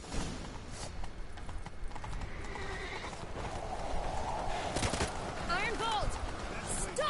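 Horse hooves gallop in The Witcher 3: Wild Hunt, a steady clip-clop running under game music, whinnies and spoken dialogue throughout.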